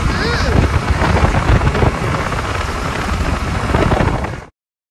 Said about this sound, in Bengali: এত জোরে জোরে বৃষ্টি পড়ছে